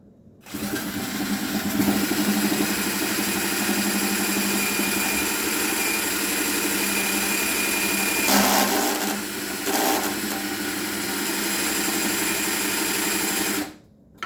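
A power drill whines steadily at high speed for over ten seconds, close and loud, with a couple of brief changes in load before it stops.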